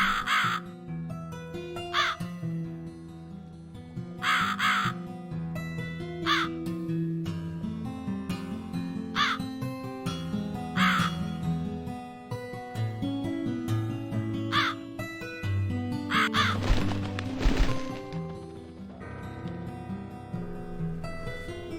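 Crow caws in the video game The Cat Lady, repeated harsh calls at a steady interval over a low, droning background, clear and fairly close.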